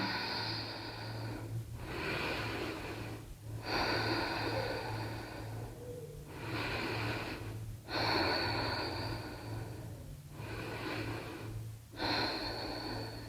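Steady, deep breaths during a beginner hatha yoga session: slow, even inhales and exhales repeat about eight times, close and clear over a low steady hum.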